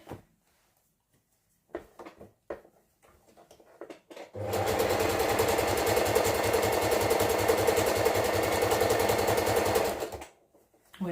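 A sewing machine stitches fabric in one steady, fast run of about six seconds, preceded by a few scattered clicks and handling knocks, then stops abruptly.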